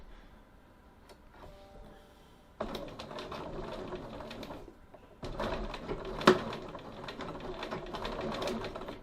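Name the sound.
sewing machine stitching around a pocket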